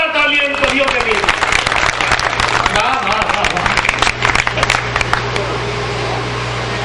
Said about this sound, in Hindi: तो एक बार जोरदार तालियां इन कवियों के लिए।